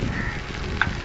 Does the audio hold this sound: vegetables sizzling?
yes